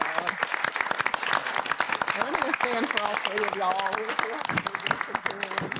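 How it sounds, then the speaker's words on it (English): At a law enforcement commission meeting, an audience gives a round of applause for three people who have done an amazing job. Sharp, dense clapping runs throughout, close and lively, while someone speaks over it. "I'm going to give them all a round of applause."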